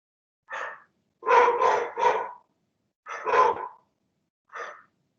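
A household dog barks in the background of a committee meeting call, with about six short barks in irregular clusters separated by silence and no voices.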